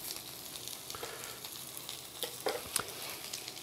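Sausage and bread sizzle in a hot pan, a steady, close frying hiss with scattered pops and crackles and no talking.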